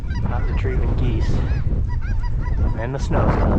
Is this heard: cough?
no